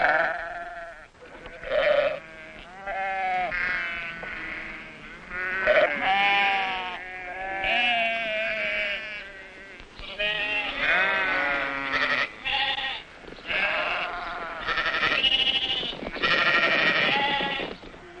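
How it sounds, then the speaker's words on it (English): A herd of sheep in Mongolia bleats continuously, with many overlapping calls rising and falling, some near and loud and others farther off, with no talk. "Veterinary teams now travel from herd to herd to inoculate the sheep."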